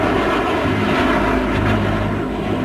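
An A-12 spy plane drones overhead with a steady, loud engine roar, a sustained rumbling tone with a faint rising whoosh, no voices.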